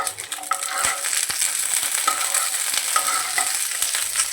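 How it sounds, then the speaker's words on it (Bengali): Cashews and raisins frying in oil with whole spices for Bengali basanti pulao over a low-to-medium flame, a steady close sizzle with light stirring and scraping in the pan throughout. "কাজু কিশমিশটাকে 1 থেকে 2 মিনিট মতো ভেজে নেব।"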